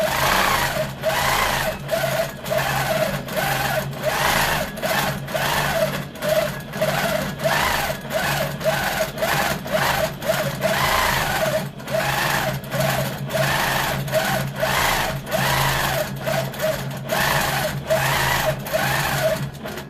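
A sewing machine stitches free motion quilting in a quilt studio, its needle hammering in a steady rapid rhythm with brief pauses and speed changes, loud and close, over a low motor hum.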